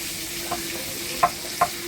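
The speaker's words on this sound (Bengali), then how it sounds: "আলুগুলো হলুদ লবণ দিয়ে ভাজি নেব" Potatoes fry in oil with turmeric and salt, giving a steady close sizzle with a few light stirring clicks and scrapes.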